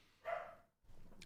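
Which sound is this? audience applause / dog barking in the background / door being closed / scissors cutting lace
dog barking in the background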